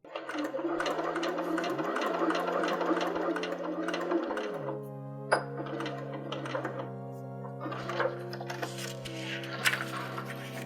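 A sewing machine hums and stitches steadily up close through a foundation paper piecing quilt block, with short pitch shifts as the speed changes and a few light knocks near the end.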